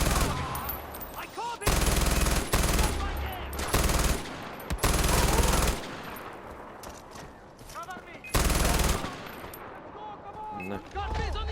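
Loud automatic gunfire from the video game Far Cry 4 comes in several long sustained bursts separated by short pauses, close and dense, with someone talking over parts of it.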